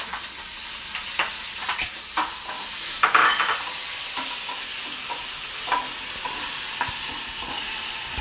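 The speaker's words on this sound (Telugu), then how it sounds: "క్యాబేజీ కూడా గోల్డెన్ కలర్ వచ్చేదాకా ఫ్రై చేసుకోవాలి. ఇది ఇలా వేగుతూ ఉంటుంది" Shredded cabbage frying with coriander seeds, cumin and a handful of curry leaves in a pan, a light continuous sizzle with scattered spatula scrapes and taps, close and clear without speech.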